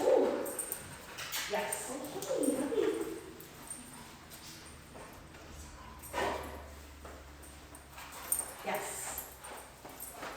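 Puppies whimpering with a few high thin whines and yips early on, then fainter cries later, amid people talking in an indoor dog training class.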